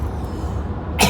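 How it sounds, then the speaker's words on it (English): A single short cough from an adult, close and fairly loud, heard on its own in muggy weather. "it's muggy, so I got a cough."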